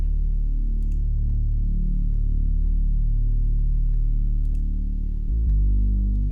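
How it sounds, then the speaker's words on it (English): Homemade synth bass built from a single detuned oscillator with a high cut, playing sustained low, warm notes that hold steadily and shift pitch near the end, heard alone. "I made the synth bass myself in Silent"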